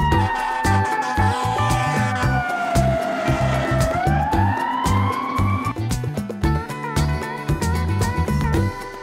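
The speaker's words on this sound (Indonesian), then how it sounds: "Ini adalah fire truck atau mobil pemadam kebakaran." A loud wailing siren rises and falls continuously, with rhythmic engine or horn bursts underneath, close by and steady throughout.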